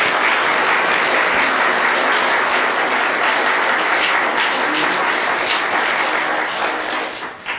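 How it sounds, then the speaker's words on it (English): Loud, dense audience applause for candidates at a 2016 Ventura County Board of Supervisors candidate forum, a steady wash of many hands clapping for about seven seconds before tapering off at the end. "Let's give our candidates a round of applause."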